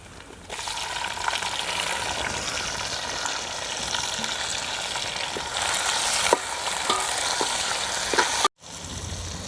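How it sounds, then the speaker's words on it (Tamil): Tomatoes sizzle steadily in a pan for mutton biryani, cooked outdoors village style, with occasional stirring scrapes and a brief cut near the end. "தக்காளி நல்லா வதங்கிடுச்சு."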